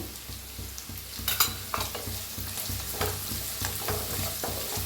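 Carrots and onion fry together in a pan, a steady sizzle running throughout with repeated rhythmic scraping and stirring strokes and a few sharper clinks of the spatula against the metal.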